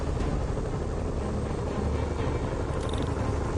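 Continuous dense rotor-like roar of a helicopter in a Spider-Man game, steady and fairly loud with a faint whirring texture, no speech.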